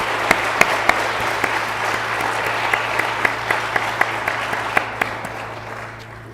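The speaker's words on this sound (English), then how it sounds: "A round of applause, please, for everyone who's come here and earned this honors program medallion" Steady applause from an audience at a college honors recognition ceremony, greeting honors program medallion recipients, with a few sharp individual claps standing out over a dense, even wash of clapping that holds for several seconds.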